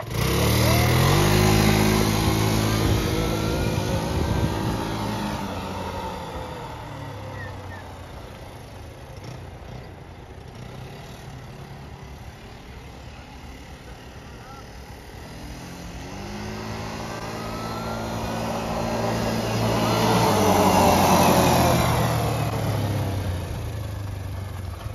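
A Yamaha Breeze 125 quad's engine revs loudly and close, climbing in pitch, easing to a steadier drone mid-way, then swelling again into a second strong rev before settling.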